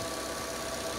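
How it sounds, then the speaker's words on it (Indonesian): A 2011 Mazda 2 with a 1500cc four-cylinder engine idles steadily, a smooth, even hum heard close up with no voices. "Dan ini suara mesinnya"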